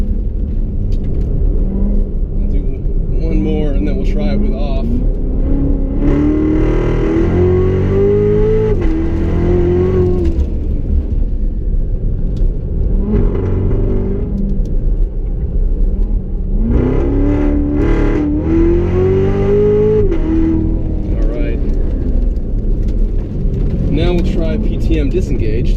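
A Chevrolet Corvette Z06 with the Z07 package and automatic transmission accelerating around a figure-eight course, its engine droning and rising in pitch through two long revving pulls, loud and constant from inside the car, with someone talking over it.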